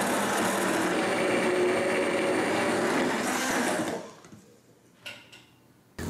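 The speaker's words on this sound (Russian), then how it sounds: "После этого также пробиваем блендером." Immersion blender mixing mirror glaze for a pastry, a loud steady whirring drone for about four seconds that cuts off abruptly, followed by quiet kitchen room tone with a couple of faint knocks.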